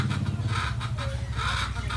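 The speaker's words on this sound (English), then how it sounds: "Why is the chicken so noisy?" Chickens clucking on a rural property in Tarlac province, the Philippines, a steady busy chatter of hens carrying on through the whole stretch, loud and close with no clear pauses.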